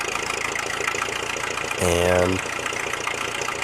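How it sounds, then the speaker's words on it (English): A loud tractor with no live PTO or hydraulics idles with a steady, throbbing low rumble, and a brief spoken word cuts in over the engine partway through. "It's cool to have a loud tractor right now"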